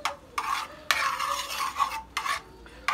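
Butter and garlic sauté in a pan for a butter sauce, heard mostly as a series of close, rasping spatula scrapes and stirs in short bursts over a faint sizzle, without talking.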